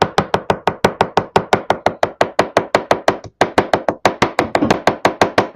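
Parsley chopped with a knife on a board: loud, close, evenly spaced chops in a fast steady rhythm, briefly pausing once before continuing.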